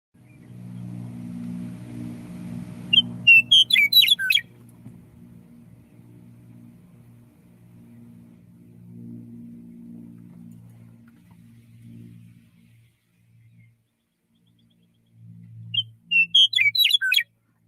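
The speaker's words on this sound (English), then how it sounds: "Here's a bird establishing and defending its territory." Songbird singing to defend its territory, two short bursts of high chirping notes with pitch sweeps, one early and one at the end, over a low engine rumble that fades into near silence.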